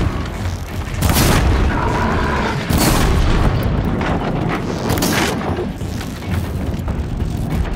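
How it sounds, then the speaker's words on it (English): A machine blows up in the video game Horizon Zero Dawn with loud, deep booming blasts, several heavy bursts rolling over a sustained rumbling roar. "And now we need to explode this thing."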